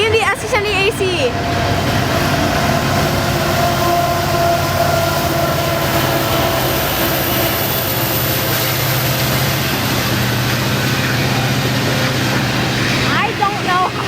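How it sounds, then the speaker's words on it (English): Long CP grain freight train with ET44AC and SD70ACe locomotives passing close in Wauseon, Ohio, a loud continuous rumble and rattle of wagons on rails, with a voice talking over it. "I don't know how long this train is going to be."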